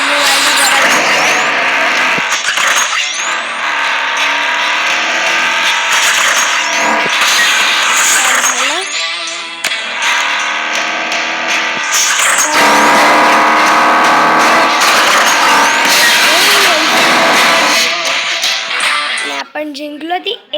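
An AC Cobra race car roars continuously at high revs in a racing video game, loud and close. Its engine pitch rises and falls through gear changes, with occasional tire squeal.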